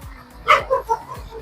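A dog barks nearby in a short burst of two or three quick yaps.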